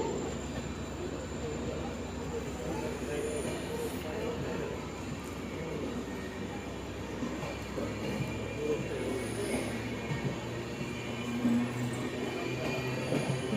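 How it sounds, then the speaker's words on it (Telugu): A passenger train pulls away from a station after a short stop, a steady low rumble of wheels and carriages rolling on without pause, with faint voices in the background. "ట్రైన్ అయితే వెళ్ళిపోతుంది. స్టాప్ అంతే, వెళ్ళిపోతుంది,"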